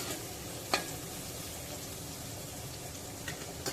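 Onions fry in a pan over medium heat with a steady, soft sizzle, broken by a few light scraping clicks of stirring.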